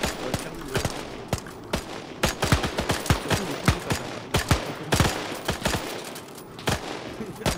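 Massed rifle fire in ArmA 3 during a Zulu War battle: dense, rapid volleys of cracking shots overlapping continuously at close and middle distance, with no voices heard.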